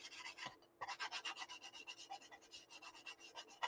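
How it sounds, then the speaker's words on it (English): A sanding stick rubs back and forth along the edge of a model running board, a steady series of close, dry rasping strokes with a brief pause near the start. "I will roll that sanding stick"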